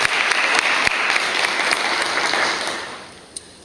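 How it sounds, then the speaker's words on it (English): Steady, full applause comes from the audience at a National Honor Society induction ceremony for high school students. It holds strong and even, then fades away toward the end. "So give yourself a big round of applause."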